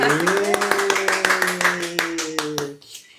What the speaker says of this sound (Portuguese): Salve de palmas para ela!